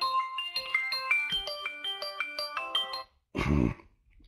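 A mobile phone rings during an online library webinar, playing a bright, steady melodic ringtone of repeated tones for about three seconds before it cuts off, followed by a short burst of noise.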